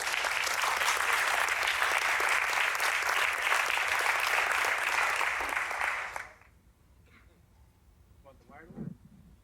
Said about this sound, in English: Big round of applause for Keith.